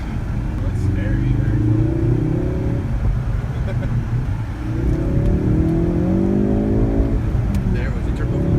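A Ford Focus RS accelerates hard with rising engine pitch, surging twice through the gears, loud and close, with turbo whoosh mixed into the roar and voices talking over it.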